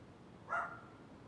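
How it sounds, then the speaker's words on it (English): A single short, faint dog bark sounds from a distance in a quiet indoor room, heard once and alone. "Is he barking at Joe?"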